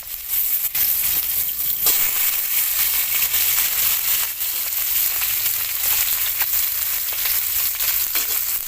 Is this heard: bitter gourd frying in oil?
yes